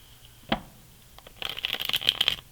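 A single sharp card snap is followed by a rapid riffle shuffle, a quick fluttering run of cards that rises and then stops.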